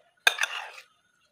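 A spoon scrapes and clinks in a bowl while stirring kinilaw of raw tanigue fish with vinegar and calamansi, one short burst of clattering lasting about half a second amid silence.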